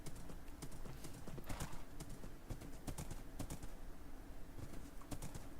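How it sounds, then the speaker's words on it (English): Horses run in a Lord of the Rings video game, a faint, rapid clatter of hooves going on throughout, with soft background noise and no clear voices. "They scatter because they don't see horses too often."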